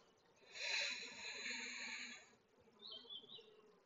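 Bees buzz inside a weak, underpopulated hive, a soft, droning hum that swells and then stops, with a brief higher whine near the end, quiet and close.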